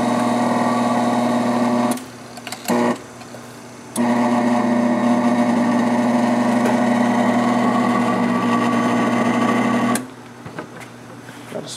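A Fisher Centrific Model 225 benchtop centrifuge runs down after braking with a steady, high, whining motor hum. The hum cuts out briefly twice, then returns and holds, and near the end it drops away into quieter clicks.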